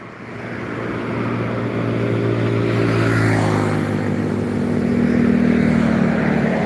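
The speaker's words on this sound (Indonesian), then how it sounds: "Ini truk dan bus jarang-jarang lewatnya, banyak mobil kecil-kecil bang" Steady stream of small cars with the odd truck passing on a road, a continuous loud engine and tire roar that swells and fades as vehicles go by, with no talking.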